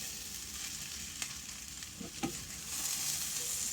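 Hamburger and potatoes with carrots fry in a skillet as a utensil stirs them: a steady loud sizzle throughout, with a few scrapes and knocks of the spoon partway through, close up and without speech.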